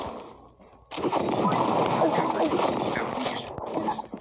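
Rapid gunfire from the Sucker Gun in the mobile shooter Pixel Gun 3D: after a quiet half-second, a dense, loud, continuous barrage of shots and game effects runs to the end.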